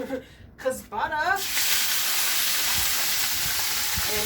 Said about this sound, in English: I had cut my skirt steak into thinner strips, threw a dab of butter in there